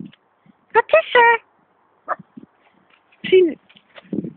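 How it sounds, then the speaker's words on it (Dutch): A dog outdoors near woods gives a few short, sharp barks in two separate bursts, with quiet pauses between them and a person talking nearby. "Het is gewoon Elvis' hobby, blaffen"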